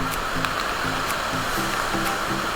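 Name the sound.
Perumthenaruvi waterfall, strongly flowing water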